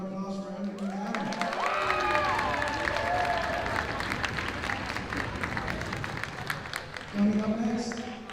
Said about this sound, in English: Let's give a round of applause for Emily McAdams.